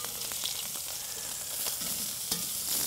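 Well-browned food sizzles steadily in a hot pan as pieces are flipped over, a close continuous hiss broken by a few soft taps and scrapes.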